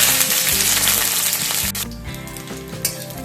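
Garlic cloves and whole dried red chillies frying in hot oil, a loud steady sizzle with bright crackling that drops slightly partway through, with a few soft clinks and no talking.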